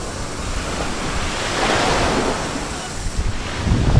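Ocean surf at Phra Nang Beach, Thailand, washes in steadily, a wave swelling and then receding, with wind blowing in the background.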